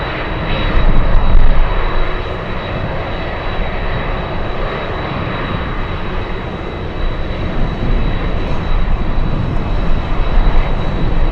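An Alaska Airlines jet arriving from Fairbanks roars steadily overhead at an Anchorage airport, a loud, continuous engine drone with a thin high whine running through it.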